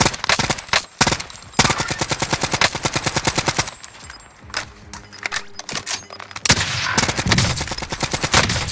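Rapid automatic gunfire in a battle-royale style video game, loud sustained bursts with short pauses and a quieter stretch midway before firing resumes.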